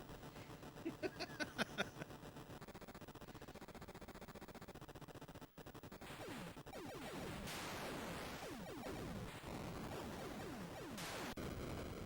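Chiptune-style Atari 8-bit game audio from Laser Hawk with a quick string of bursts early on, then a dense, crackling, noisy explosion sequence that swells and sweeps for several seconds.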